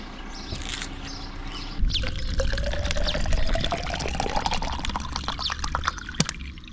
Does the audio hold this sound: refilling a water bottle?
yes